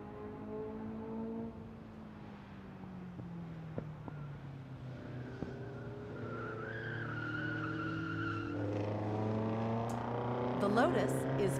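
Racing cars on a track, a Lotus followed by Porsches and a Corvette, their engines droning with rising and falling pitch as they pass, a steady mid-distance roar under a voice speaking.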